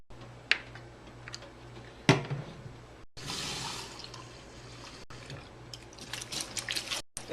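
Water sloshes and splashes inside a bottle being shaken and rinsed, in bursts of liquid noise broken by brief drips and pauses, close and fairly quiet.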